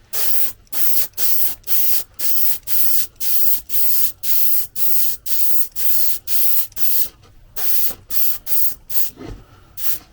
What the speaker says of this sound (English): the spray gun would actually blow this off the table